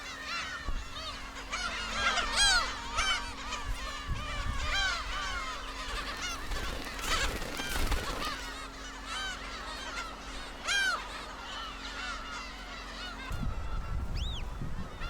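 A dense colony of black-tailed gulls on Dokdo island calls continuously, many nasal, cat-like mewing cries overlapping near and far, with a low steady hum underneath for most of the stretch.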